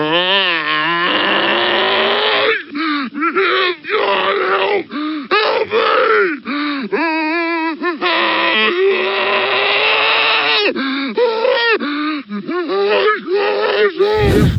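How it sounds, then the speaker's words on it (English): Reversed headcrab zombie scream from the video game Half-Life 2, a long loud, close, warped groaning wail with wobbling pitch and choppy breaks, ending in a sudden sharp swell. "And reversing that scream gets you this."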